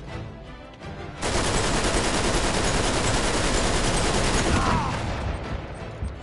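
Sustained loud gunfire from the video game Uncharted 3 with a sniper present, a dense continuous burst of rapid shots that starts abruptly and fills several seconds before easing off.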